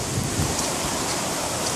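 Creek water pours out of drainage pipes during rain, a dense, steady rushing roar of flowing water heard close and loud with no pauses.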